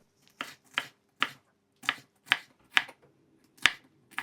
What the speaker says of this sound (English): All right, capsicum, just nice and thin, and then I'll cut it in half afterwards.